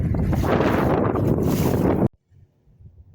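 Strong wind roars over a boat near an island at Sebastian Inlet, a loud, steady buffeting for about two seconds that cuts off abruptly into near quiet.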